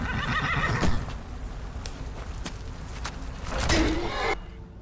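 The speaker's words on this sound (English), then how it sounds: "My horse made a very distressed noise." A horse in Skyrim neighs and whinnies loudly over busy game ambience, with a strained, agitated cry toward the end.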